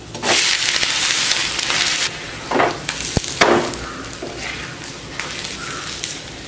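A lentil dosa (paruppu dosai) is turned over on a hot pan, with scraping and a soft slap over a steady frying sizzle, several brief bursts across the clip.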